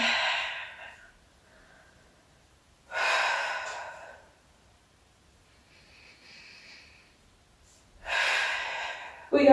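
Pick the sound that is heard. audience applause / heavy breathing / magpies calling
heavy breathing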